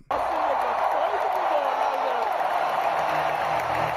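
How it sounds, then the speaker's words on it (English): A concert crowd at a show in Paris roars with sustained cheering and applause, a dense, loud, continuous wash of clapping and shouting that sounds distant and hall-filling. "That's a good response from the crowd there."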